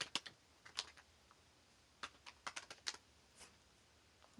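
Keys clatter on a computer keyboard in short, quiet bursts of irregular taps with brief pauses between them, close up and with no talking.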